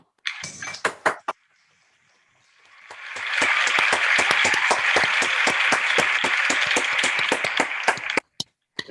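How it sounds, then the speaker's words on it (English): A medical school graduation audience applauds its graduating doctors: a few sharp claps, a short silence, then a swell of dense applause that holds steady for several seconds before breaking off into scattered final claps. "Graduates, future doctors, we applaud and salute you"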